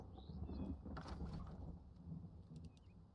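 Thunderstorm aftermath in the video game Enshrouded: a steady low rumble of rolling thunder and rain, swelling briefly near the middle, with faint bird-like chirps and light clicks above, no talk.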